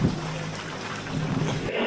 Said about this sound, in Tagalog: Non-stop yung ulan eh.